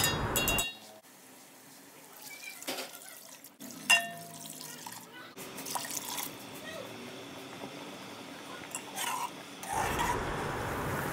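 Water-based yakhni stock is poured into a pot of pulao masala, making a soft, splashy stream and bubbling hiss that swells toward the end, with a few clinks and faint talk around it.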